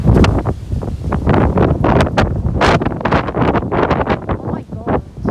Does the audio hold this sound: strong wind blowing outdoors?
yes